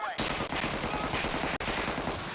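Rapid automatic gunfire in the video game GTA 5, a dense continuous burst of close, loud shots with a brief break near the end.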